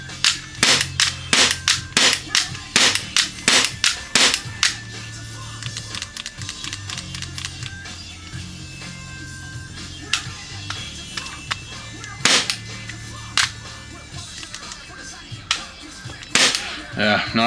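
A Glock-style pistol fitted with a steel hammer set fires in semi-auto, giving a string of sharp, snappy cracks in irregular bursts and single shots, with a low background hum and a few quieter clicks between them.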